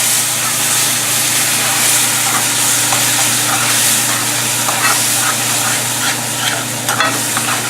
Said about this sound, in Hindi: इसी स्टेज पे हम इसमें टमाटर डाल देते हैं